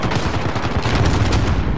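A thermal-scoped light machine gun in the video game Modern Warfare fires continuously, a loud dense rattle of rapid shots with no pause.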